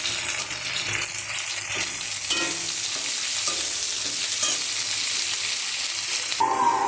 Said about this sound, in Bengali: দেখুন, পেঁয়াজ আলুটা দারুণ করে ভেজে নিয়েছি।